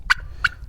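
A homestead turkey gobbles twice in quick succession, close and loud, each call a short bright burst over a quiet background.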